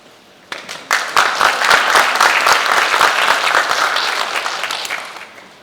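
An audience at a Putnam County, New York naturalization ceremony applauds loudly and continuously, with dense clapping starting abruptly, holding for several seconds and then tapering off.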